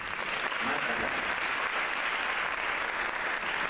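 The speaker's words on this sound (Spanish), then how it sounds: "Un aplauso para Marta." Sustained audience applause at a stage magic show, a dense, steady wash of many hands clapping at an even loudness throughout, with no talk over it.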